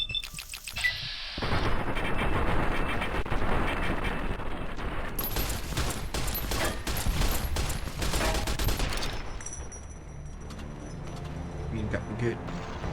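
Gunfire in the game Fallout: New Vegas during a fight with Fiends, loud repeated shots and bursts over several seconds that fade into quieter clattering, with someone talking over it.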